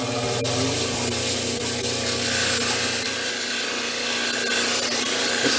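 A Yooperlite stone sphere is polished on a 600 grit wheel, giving a steady, close whirring rub with a faint hiss throughout and no talking.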